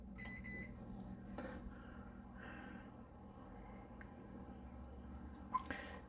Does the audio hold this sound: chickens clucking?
no